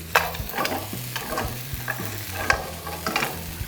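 Onion and firm carrot sizzle in a little hot oil in a pan. A utensil stirs them in quick, repeated clacks and scrapes, close and fairly loud, with no voice.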